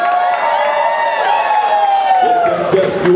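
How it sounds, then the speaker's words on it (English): Wedding reception guests fill a hall with cheering, whoops and applause in a loud, continuous crowd roar. "Give yourselves a big round of applause for Sherry Ann Christian and Mika's wedding"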